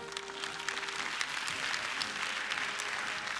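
Faint, steady applause from a comedy show audience greeting a performer, continuous and distant with no talk over it.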